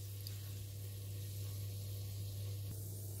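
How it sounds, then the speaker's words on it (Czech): Butter melting in a frying pan gives a steady, soft sizzle with a watery hiss for several seconds, plus a constant low hum beneath it and no talking. "a necháme si roztát máslo"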